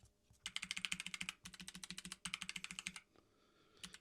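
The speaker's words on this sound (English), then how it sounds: "I've got the mic here, by the way, so you could really hear the keycaps." Rapid bursts of close, crisp keystrokes on Keychron mechanical keyboard keycaps, a compact board, in quick rhythmic runs with a brief pause midway and a stop near the end.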